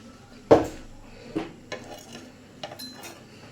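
Mackerel cooking in chilli masala is flipped over in the pan, with a sharp metal scrape and clink of a spatula followed by a few lighter, scattered taps and scrapes, fairly quiet and close.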